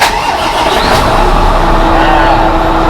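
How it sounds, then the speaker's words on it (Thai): A Fuso dump truck with a 240-horsepower diesel, from the 2014–2015 model years and with low mileage, starts and settles into a loud, steady idle close by. "มาสตาร์ทใฟังติดเครื่องเลย"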